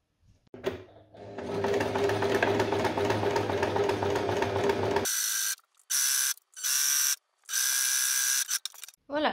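A sewing machine sews a straight stitch on a terry washcloth, first as a steady whirring run, then as several close stop-and-start bursts of stitching.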